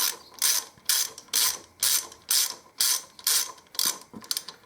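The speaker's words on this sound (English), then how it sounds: "I undo these two clamps and then manoeuvre the oil cooler out the way." Two clamps on a trike oil cooler being undone, a run of about eight sharp ratcheting bursts in a steady rhythm, close and clear, with no talk.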